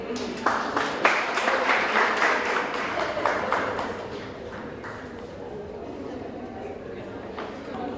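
Audience applause following a poem at a live event, a burst of clapping that fades out after a few seconds while a voice speaks over it.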